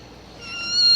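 Kitten meowing, a single close, rising cry lasting under a second.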